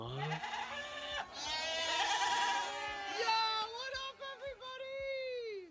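Several goats bleat in quick succession, wavering nasal cries close by, one after another with brief gaps.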